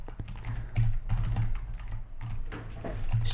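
Steady typing on a computer keyboard while writing Java Spring Boot code, rapid continuous key clicks in short bursts, close and moderately loud with no talking.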